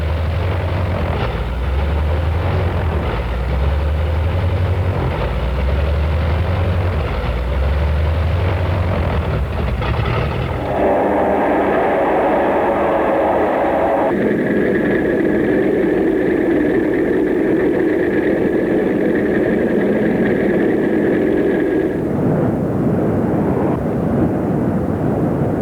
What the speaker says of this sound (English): with its wings unfolded and locked into place, the lead plane was all set to go